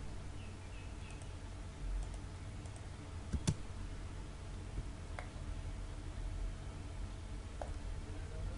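Keys tapped on a computer keyboard while working in AutoCAD, a handful of sparse, isolated clicks against a quiet steady room hum.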